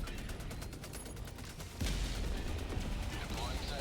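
Mortar sentry fire in a video game: a run of sharp vertical gunfire-like bursts, then a heavy low boom that swells into sustained rumbling, with a voice talking over the battle.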